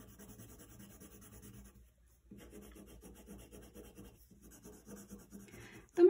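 A marker or colored pencil rubs rapidly back and forth on paper while coloring a drawing of a Minecraft hammer, close scratchy strokes in bursts with a short pause, ending in a louder knock.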